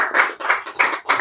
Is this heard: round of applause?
yes